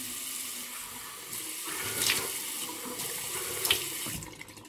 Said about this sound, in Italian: Sciacquiamo il viso.